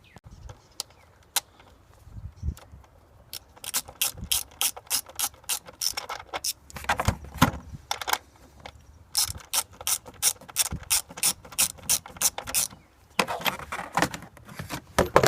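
A ratchet with an 8mm socket loosens bolts on the fuel injectors of a Chevy GMC engine, giving close, crisp bursts of rapid clicking in repeated runs with short pauses between strokes, no talking.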